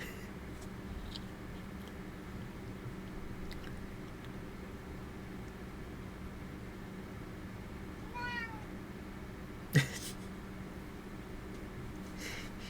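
A pet cat gives a short, rising meow at moderate distance against a steady low hum, with a single sharp knock shortly afterward.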